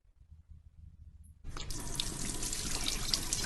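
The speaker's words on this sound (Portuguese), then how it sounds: "eu vou provar isso abrindo essa torneira" A household faucet is opened after a quiet stretch with faint low rumble, then a steady loud rush of running water pours into a sink and continues without a break to the end.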